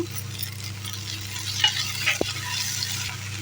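Ginger and green chili paste frying in a pan for a brinjal and sweet corn curry, a steady soft sizzle with a light clink or two of a utensil stirring.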